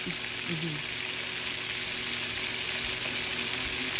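Tilapia fish frying in a pan of hot oil, a steady loud hiss and sizzle that fills the whole stretch without letting up, with faint low background hum beneath.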